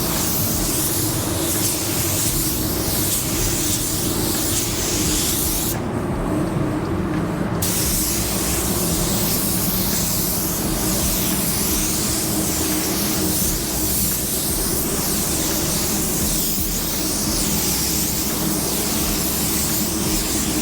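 A spray gun applies a wet, even coat of sealer onto car plastic with a steady, loud hiss that continues almost unbroken, with one brief pause partway through.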